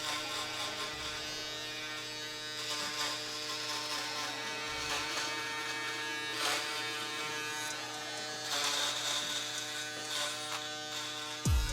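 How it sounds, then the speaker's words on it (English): At a barber's, an electric shaver buzzes steadily across coarse facial hair, a close, continuous whir that rises and dips slightly as it passes over the face, with no talking. "I like to use my electric shaver on there before I use my straight razor."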